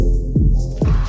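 Sweep sound color effect on a Pioneer DJ XDJ-AZ: a heavy, throbbing bass pulse with filtered swooshes sliding downward twice in quick succession, loud and close, with no talking.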